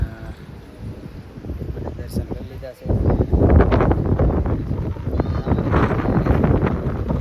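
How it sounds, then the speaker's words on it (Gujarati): Wind gusting at the Kedarnath temple in the mountains, buffeting the microphone in rough, rumbling bursts that grow stronger partway through, while a person speaks over it. "મસ્ત મજાનો પવન આવે છે"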